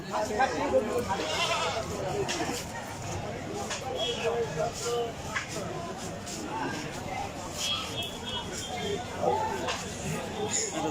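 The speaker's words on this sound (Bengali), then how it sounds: "এইখানে অনেক ছাগল উঠছে" Goats bleat repeatedly amid a noisy livestock market crowd, their calls rising over constant chatter and murmuring voices nearby.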